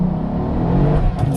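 A 2014 Mercedes SL 550 pulls away hard from a standstill, its loud, steady engine roar building close by with slight dips as the traction control intervenes; no one talks.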